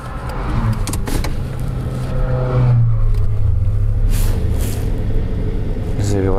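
A stalled limousine's engine catches and idles into a low, steady rumble, with a rising whir and people talking over it in a car with no roof.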